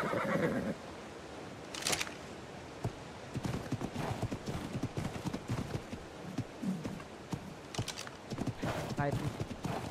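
A ridden mount in the survival video game ARK plods along in first person, its steady clip-clopping footfalls sounding close and rhythmic, with a whinny near the start.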